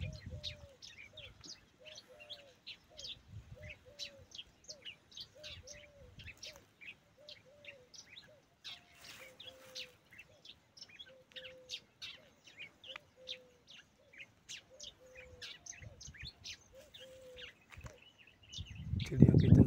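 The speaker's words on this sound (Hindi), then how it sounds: "चिड़ियों की झनझनाहट आवाज" Repeated bright bird chirps and short tweets over a quiet background in a village farm field in Rajasthan, India, in hot summer, with a lower cooing call recurring; a brief louder thump near the end.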